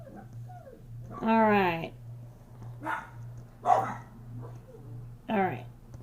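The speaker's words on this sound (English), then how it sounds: "my dogs are just going nuts in the background" Dogs at home bark and whine in short excited bursts spaced a second or so apart, moderately near, with a voice speaking briefly and a steady electrical hum underneath.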